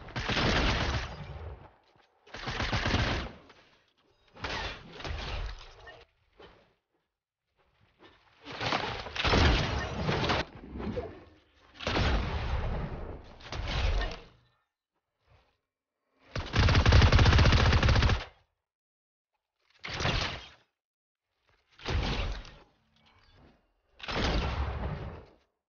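Mythic prime shotgun firing in a video game: loud, sharp bursts of shots in about ten separate volleys, each lasting one to two seconds with short pauses between them, and no talking.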